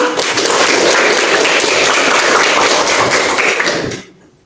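Loud, dense applause from a classroom full of students, a steady wash of clapping lasting about four seconds before cutting off abruptly.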